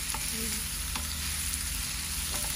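Garlic and spices (turmeric, chili, salt, cumin) fry for a fish curry, a loud continuous sizzle with occasional scraping stirs of the pan.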